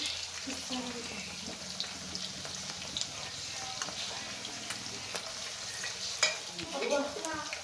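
Green chillies frying in oil in a pan for chicken pakodi give a continuous light sizzle, broken by scraping stirs and a louder clatter of the utensil near the end.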